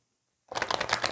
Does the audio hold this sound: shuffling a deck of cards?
yes